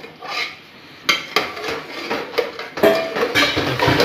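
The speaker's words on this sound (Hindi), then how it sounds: "मिक्स करना है इसको अच्छे से, पहले इसे पकाना है अच्छे से ताकि ग्रेवी जो है अच्छे से" A spoon stirs and scrapes through jackfruit curry gravy in a cooking pot, giving repeated metallic scraping and clinking strokes at close range with irregular rhythm.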